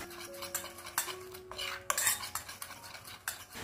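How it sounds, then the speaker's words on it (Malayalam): A spoon clinks and scrapes around a small bowl while beetroot juice, curd and gram flour are mixed into a face pack, with repeated close, sharp taps against the sides. "ഇനി ഇവയെല്ലാം കൂടിയിട്ട് നമുക്ക് നന്നായിട്ടൊന്ന് മിക്സ് ചെയ്തെടുക്കാം."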